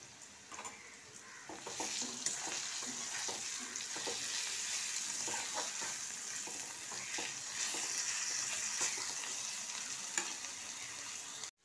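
Ginger garlic paste sizzles steadily in hot oil with onions in a pan, a continuous close frying hiss broken by light stirring clicks and scrapes, with no talk throughout.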